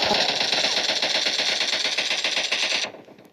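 Rapid automatic gunfire in a team deathmatch video game, a fast continuous rattle of shots at close range that runs for nearly three seconds and then cuts off abruptly, with no voices.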